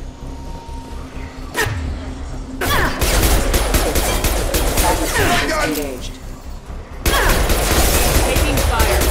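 Gunfire and explosions in the Mass Effect 2 video game, a dense, sustained barrage of loud shots and blasts with a few sharp impacts, dropping back briefly before resuming at full intensity, with voices talking over the combat.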